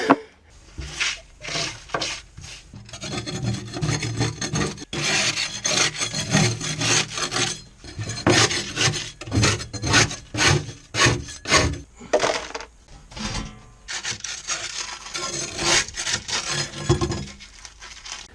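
Old paint finish is scraped off a narrowboat in close, rhythmic strokes, a steady run of rasping scrapes that rise and fall with each pass and continue alone for the full length.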